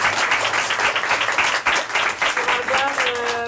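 A seated audience at an olfactory meeting event claps steadily throughout, a dense, continuous round of applause with no break.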